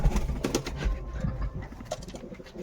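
Pigeons in a home loft, some nesting with eggs and chicks, coo softly in low repeated murmurs against a busy background rumble, with no speech.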